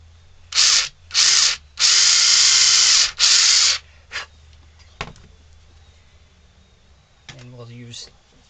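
A Dremel rotary tool working on a carved wooden ventriloquist dummy, buzzing loudly in four sustained bursts of varying length, then a brief touch and a few small clicks, with a short bit of handling noise near the end.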